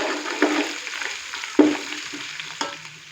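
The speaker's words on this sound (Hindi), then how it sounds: "अदरक और लहसुन के पेस्ट को हमने हल्का सा फ्राई कर लिया है।" Ginger garlic paste frying in a pan with browned onions, a continuous sizzle broken by several sharp stirring knocks and scrapes of the spoon against the pan, close and alone without talk.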